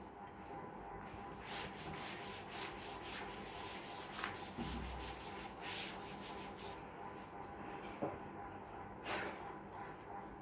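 Writing being rubbed off a board during a maths class: repeated soft scrubbing strokes in an irregular rhythm, faint and close, with a quiet room hum underneath.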